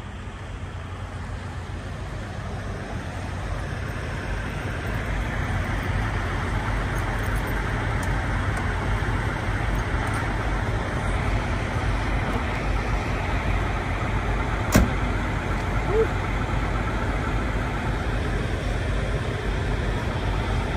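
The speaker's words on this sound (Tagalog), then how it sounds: "Malaki ang makina nito" A large, powerful truck engine idles steadily, a flatbed hauler once used for pulling containers, giving a continuous low rumble with a broad noisy wash over the whole stretch and one brief sharp click near the middle.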